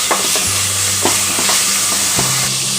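Tomatoes sizzling and being stirred in a frying pan as mixed grains are added, a steady loud sizzle with soft rhythmic scraping of the spoon throughout.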